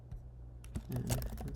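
Typing on a computer keyboard: quick, close key taps, sparse at first and then a dense burst of clicks near the end.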